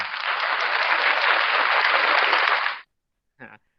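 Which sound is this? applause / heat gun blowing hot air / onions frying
applause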